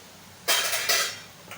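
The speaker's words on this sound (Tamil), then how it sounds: "ஒரு தொப்பியால் மூடி வச்சிடணும்" A metal lid is set over a vessel of kozhukattai dough, making a bright clatter followed by a second clink and a faint trailing rattle, close and with no speech.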